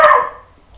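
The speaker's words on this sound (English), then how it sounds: "Shut up, dog." A single loud dog bark at the start, close by, quickly fading into near silence with no talk.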